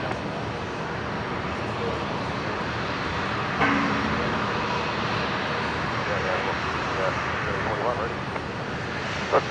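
A Qantas Link Dash 8 turboprop roars steadily at takeoff from runway 01 right at Brisbane Airport, with a constant engine drone under a radio voice.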